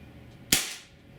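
A single sharp crack from an HK P30 4.5mm (.177 caliber) CO2 pellet pistol, close and loud, followed by a short fading hiss of gas.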